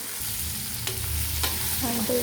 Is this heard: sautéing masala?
yes